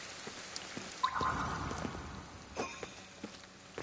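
Steady rain in the video game Ghostwire: Tokyo patters softly with scattered drips and light taps, a continuous wash of drops at moderate distance.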